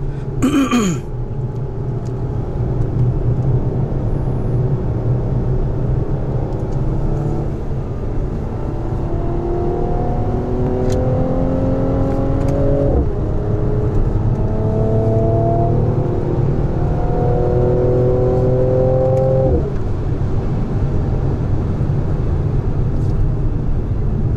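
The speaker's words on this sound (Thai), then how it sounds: "เสียงเครื่องยนต์เล้าใจ" A 2018 Mercedes-AMG engine revs repeatedly, pitch climbing and dropping through several gear-like sweeps, loud and sustained over a steady rumbling roar.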